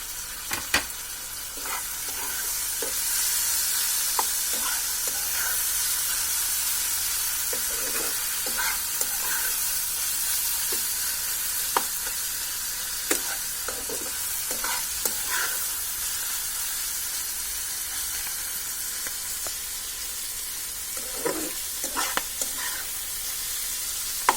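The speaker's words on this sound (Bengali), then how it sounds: "ক্যাপসিকাম কুচি করে রাখা আছে, এটাকে আমি দিয়ে দিচ্ছি।" Chopped capsicum sizzling in oil for fridge rice, a loud, continuous hissing fry throughout with occasional spatula clicks and stirring scrapes, no talk.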